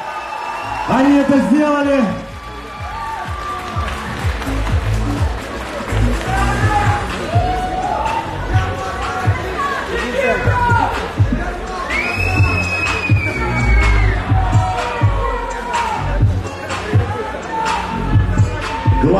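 An arena crowd at a fight event cheers, whistles and claps in a loud, rolling wave that rises and falls, with an announcer's voice and shouting heard over the din.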